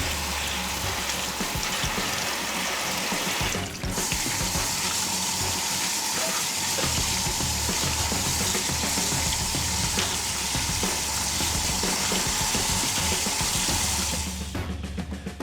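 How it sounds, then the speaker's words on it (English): Running tap water pours steadily and loudly into a metal colander, rinsing freshly cooked pasta at a kitchen sink, a constant close gush that starts abruptly and stops near the end, with no talking. "after tossing into my colander, I'm just gonna give it a wash."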